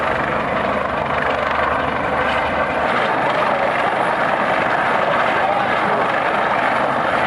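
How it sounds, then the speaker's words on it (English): A Coast Guard rescue helicopter over the open ocean near a cruise ship, its rotor and engine roaring steadily and loudly throughout, a constant broad whooshing drone with no break. "Coast Guard helicopter rescue in the middle of the ocean from Carnival Sensation ship"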